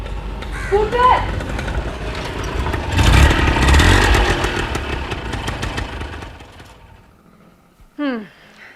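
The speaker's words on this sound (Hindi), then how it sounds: "स्कूटर।" A scooter engine runs close by in a radio play, with a steady motor drone that swells and then fades away, while voices speak over it.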